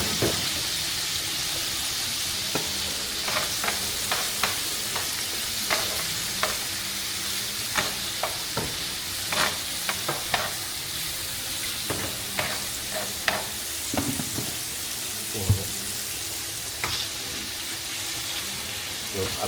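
Marinated chicken tikka sizzling steadily in a pan, with a constant frying hiss broken by frequent sharp scraping clicks of stirring at an uneven rhythm, close and clear.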